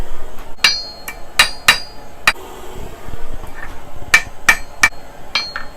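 Hot steel is hammered on an anvil while a needle is forged, with sharp ringing metallic strikes coming in irregular bursts of two or three, close and loud with no talk.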